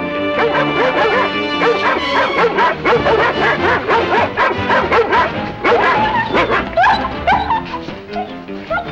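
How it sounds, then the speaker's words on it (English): Several dogs let loose to track a scent on an old TV show, barking, yipping and whimpering in a continuous loud overlapping chorus. "Unchain the dogs, and off they go to track down that scent."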